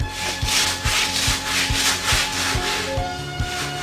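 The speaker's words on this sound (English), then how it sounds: "Use your sander and turn it like that and make that bend." A hand sander works a bend in a car body panel, giving a steady rhythmic rubbing rasp in repeated strokes, close and fairly loud, with no talking.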